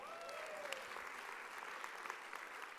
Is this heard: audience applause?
yes